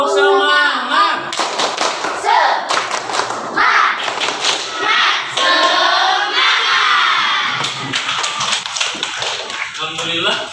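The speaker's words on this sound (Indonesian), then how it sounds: "Tepuk semangat." Classroom of children doing a rhythmic spirit clap, sharp patterned hand claps and thumps loud and close, mixed with children's shouting voices throughout.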